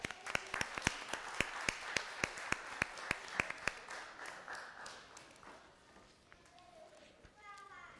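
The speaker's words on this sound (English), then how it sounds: "Let's give him another round of applause." Audience applause at a live-streamed school event, a burst of sharp, rapid clapping that stays loud for about four seconds, then thins and fades into softer scattered claps and room murmur.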